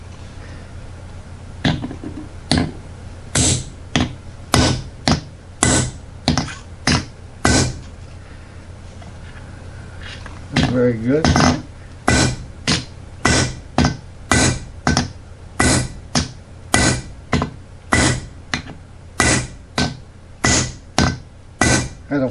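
Steel hammer blows striking a tool to cut 3/8-inch (9.5 mm) rebar: a long series of sharp, loud metallic impacts, close and fairly steady in rhythm, with a brief pause midway and a few quiet words.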